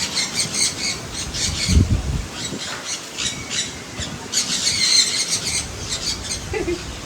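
Young pet birds at a pets park in Thrissur let out repeated shrill squawks and sharp calls in bursts, close by, over a low background murmur.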